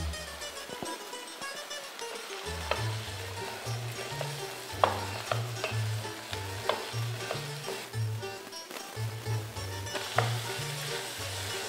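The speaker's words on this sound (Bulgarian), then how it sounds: "То малко му трябва да се пържи, защото после се пече пак." Chopped onion and carrot sizzle and crackle in a frying pan, a steady close fizz broken by stirring scrapes and small pops, with a low rhythmic thumping underneath.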